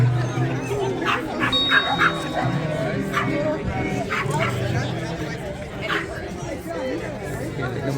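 Several dogs bark and yip, with an occasional whimper, at an American dog show in New Jersey. The barks come in scattered bursts over a continuous murmur of crowd chatter.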